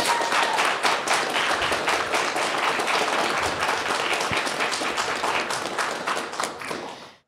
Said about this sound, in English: So let's give a round of applause for our tech staff.